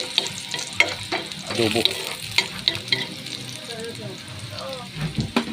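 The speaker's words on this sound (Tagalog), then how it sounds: "Pula-pulayin natin muna yung ating sibuyas bawang." Onion and garlic sautéing in a pan, with a continuous sizzle broken by stirring scrapes and clinks, close up, while a voice speaks briefly over it.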